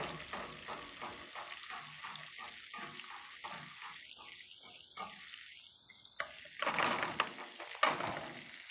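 Garlic frying in butter gives a close, steady sizzle with stirring scrapes, then louder crackling bursts toward the end, with no talking.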